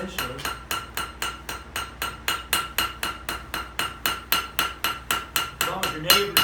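A blacksmith hammers metal while forging a leaf: a steady run of about twenty sharp, ringing blows at an even quick pace, loud and close, with no talk over them.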